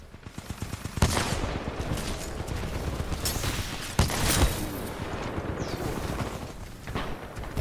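Sustained rapid-fire weapon bursts in the shooter game Titanfall 2, loud and dense, with sharp heavier shots punching through at two points and the crackle continuing almost unbroken throughout.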